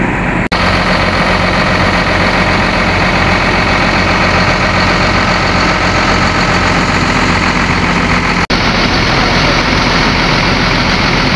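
A heavy Hino diesel engine in a Laksana-bodied bus idles loudly and steadily close by at a bus terminal, a constant low rumble with a faint click near the start and another later.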